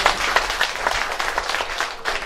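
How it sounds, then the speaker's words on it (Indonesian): A crowd at a village electricity network inauguration in Ketapang applauds, a steady wash of many hands clapping at moderate distance without pause. "Tepuk tangan."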